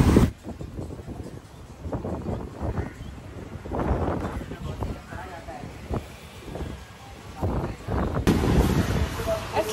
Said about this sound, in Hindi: बहुत ज़्यादा हवा चल रही है